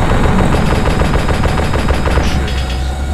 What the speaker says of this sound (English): No, that was me firing.